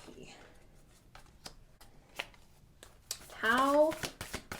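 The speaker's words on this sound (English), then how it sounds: "I'm going to shuffle the Oracle cards before I talk about this" Oracle cards are shuffled by hand at close range, starting as scattered light riffles and taps and then building to a louder, steady shuffling burst near the end, with a voice heard briefly alongside.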